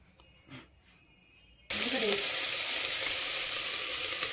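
Ginger paste hits hot oil in a pan for chicken curry and is stirred with a ladle; after a near-silent opening a loud, continuous frying hiss bursts in abruptly and carries on close up.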